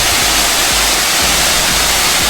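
A waterfall tumbles over a rock face at Dolosbage, Sri Lanka, on a low-water day. It gives a loud, close, continuous roar with no voices.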